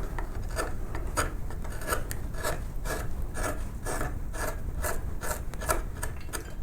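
A gouge carves a wooden mouse doorstop in rapid repeated rasping cuts, each stroke a short dry scrape in a quick steady rhythm, close and alone.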